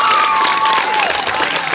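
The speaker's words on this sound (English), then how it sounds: "give also a round of applause for these two gentlemen, Derek Stonebarger and Chad Freeman" Loud, dense applause from a film festival audience honoring two filmmakers, steady clapping filling the whole stretch with a faint tonal whistle or feedback line running through it.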